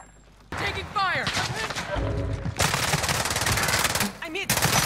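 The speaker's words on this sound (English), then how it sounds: "Taking fire." Automatic gunfire from a Call of Duty Warzone match, with dense rapid bursts across most of the stretch, loud and close, over game sound and voices that cut in between the volleys.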